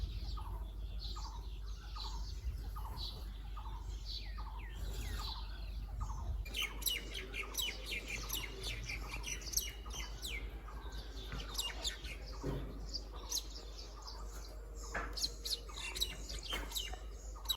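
Many small birds chirp and tweet in a village in Ranikhet, with dense overlapping calls and rapid trills close by over a steady low ambient rumble, busier in the second half.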